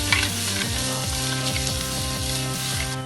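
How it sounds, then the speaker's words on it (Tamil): Onions sauté in ghee with a loud, close sizzle and crackle. Brisk stirring goes on throughout, and low tonal hum lines sit under the frying, with no voices. "வெங்காயம் நல்லா வதங்கணும்"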